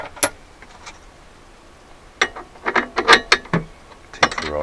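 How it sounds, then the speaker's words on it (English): Metal clicks, ratcheting turns and sharp clanks come from a key cutting machine while its cutter is changed and the nut on the reverse thread is undone, in irregular bursts separated by quiet gaps. "Take off the cutter for cutting disc."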